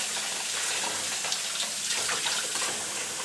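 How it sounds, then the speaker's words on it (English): Running water pours steadily from a tap as the roots of a grocery store Phalaenopsis orchid are rinsed, a close, continuous splashing hiss with no talking. "let's give it a rinse again"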